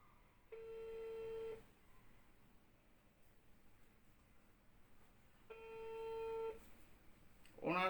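Ringback tone of an outgoing phone call placed live to a giveaway winner: two steady electronic ring pulses of about a second each, roughly four seconds apart, over quiet background hiss, ending with a click as the line picks up.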